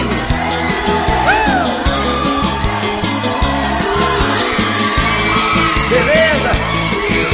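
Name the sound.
concert crowd screaming and cheering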